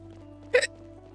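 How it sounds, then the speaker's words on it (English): A character in the video game Chained Echoes gives a single quick, close hiccup, a sharp double-pulsed burst over a low steady game music drone. "The hiccups are gonna make this harder."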